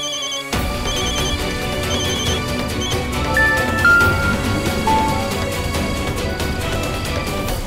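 A phone ringtone plays loud and close, a repeating melodic ring that goes on unanswered for several seconds with no talking over it.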